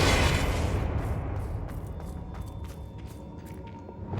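A Confringo blasting spell explosion in the Hogwarts Legacy video game, a loud booming burst at the start that fades into a rumbling decay with a few scattered crackling pops, no voices.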